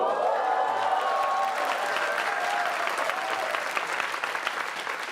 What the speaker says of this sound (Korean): 박수는 다 듣고 주세요